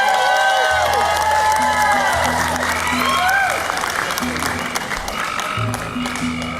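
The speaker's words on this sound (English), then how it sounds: "Let's give a round of applause for everyone who puts this entire shindig together." A concert audience at a live band show claps and cheers, with whoops and shouts over loud, continuous applause while a low musical hum sustains underneath.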